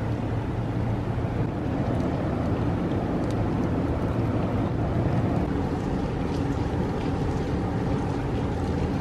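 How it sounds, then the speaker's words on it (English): A river cruise ship sails toward Kinderdijk in the Netherlands, giving a steady, continuous low rumble of engine and water with wind noise on the microphone, constant and unbroken throughout. "On we sail to Kinderdijk."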